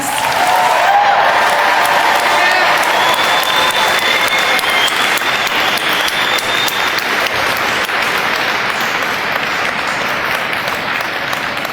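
A large crowd at the Northcentral Technical College spring 2024 graduation ceremony bursts into sustained, loud applause, thick steady clapping filling the hall with a few cheers on top for the whole stretch.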